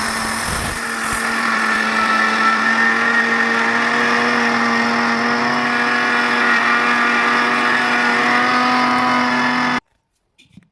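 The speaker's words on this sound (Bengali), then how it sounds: "এখন চলুন চালগুলো আমি ব্লেন্ডারে ব্লেন্ড করে নিচ্ছি" An electric blender grinding washed raw rice into flour runs at a steady, loud whine for about ten seconds, then cuts off abruptly into near silence.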